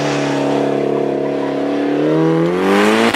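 A Group B Peugeot 205 T16 rally car climbs a hillclimb course, its engine note holding a steady high drone before rising sharply as it accelerates nearby, loud and close, with no one talking.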